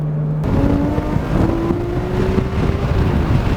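A Mine's-tuned Nissan R32 GT-R engine revs hard toward 8,000 RPM, its rising tone climbing steadily and loud with wind rush over it, heard up close from inside the car.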